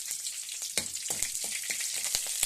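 Mustard seeds, curry leaves, green chili and garlic hit hot oil in a pan for a Kerala-style crab curry, giving a soft, crackly sizzle with scattered little pops and taps, moderately quiet and close.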